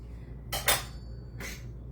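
A muddler mashes cherries in a glass, two short scraping, clinking pushes against the glass about a second apart, close and fairly quiet, no voices.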